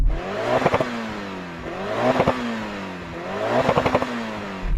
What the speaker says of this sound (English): Now, finally, we come to the Mitsubishi Evo 6. Go on, rev it up.